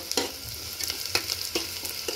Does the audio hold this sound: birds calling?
no